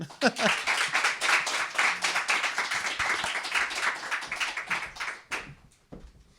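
Audience applause for a group of readers at a book reading event, a dense sustained burst of many hands clapping that swells at once and tapers off near the end.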